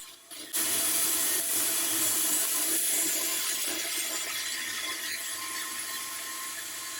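Bandsaw resawing a 1.5-inch white oak or walnut board into two thinner boards, a steady bright whirring hiss that starts abruptly and runs continuously, easing slightly toward the end.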